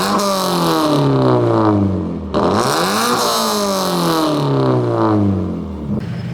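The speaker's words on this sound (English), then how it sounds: "I'm reviewing my car and I had to give a sound sample." A sports car engine revs hard close by, climbing and falling in repeated sweeps with a short dip between blips, loud and alone with no talking.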